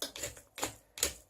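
Manual pepper crusher held in the hand and rotated, giving three separate gritty crunching bursts at an even pace, close and fairly quiet with short pauses between turns.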